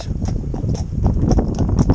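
A horse walks along, its hooves clip-clopping in a steady, close rhythm of several distinct strikes, with no talking over them.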